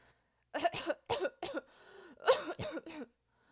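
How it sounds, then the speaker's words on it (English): Several harsh coughs come in quick bursts, a short pause with a wheezy breath, then another fit of coughing, close by. "How long have you had that cough?"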